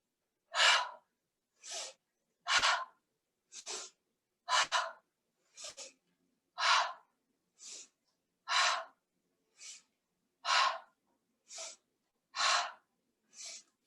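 A person breathing deeply during a guided movement session, with about a dozen slow, evenly spaced breaths, each a clear airy inhale or exhale separated by near silence, close and soft.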